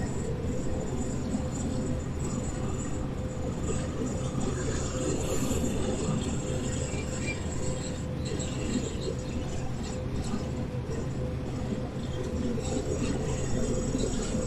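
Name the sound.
train passing in video game Train Sim World 3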